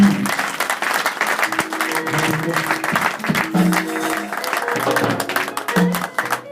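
A church congregation in France claps steadily and energetically for several seconds, dense applause with voices and some music underneath.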